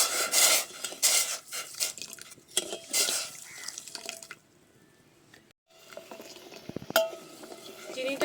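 Sugar and water are stirred in a pan to make syrup, with rhythmic spoon scrapes and clinks against the metal at first, then a quiet pause and a few later taps and scrapes.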